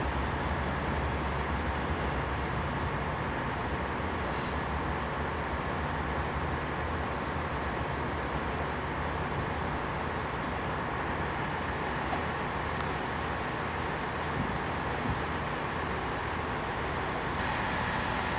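A train service from Reading at Oxford station gives a steady, loud, broadband rumble for the whole stretch, with a continuous close roar of rolling wagons and faint occasional squeals.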